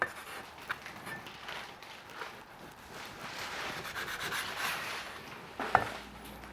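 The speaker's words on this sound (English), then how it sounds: "So what you want to do now, against the grain, make thin slices" A knife cutting thin slices of beef against the grain on a board, a soft, faint rubbing and scraping with a small tap and a sharper knock near the end.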